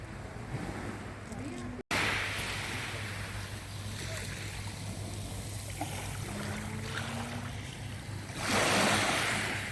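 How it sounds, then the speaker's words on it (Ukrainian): Sea waves wash steadily onto a small beach bay on the French Riviera coast, a continuous close surf with gusty wind noise and a louder surge near the end. "У мене на каналі є окреме відео з шумом моря, з хвилями цього пляжу."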